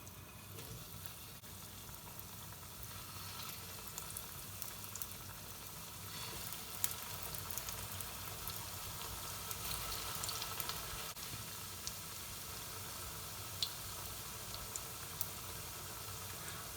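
Tender jackfruit cutlets frying in hot oil, a steady, fairly quiet sizzle with faint crackles and pops running continuously without pause.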